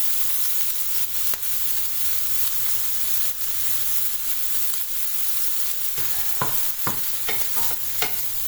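Garlic, mushrooms and leeks fry in a pan with a loud, continuous hissing sizzle, joined near the end by a few quick stirring clatters.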